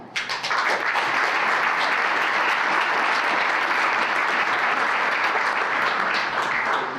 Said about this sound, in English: I want another round of applause for Peggy Troy